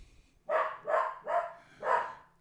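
A pet dog barks four times in an even, steady rhythm, each bark loud and close with a short gap between them and nothing else around it.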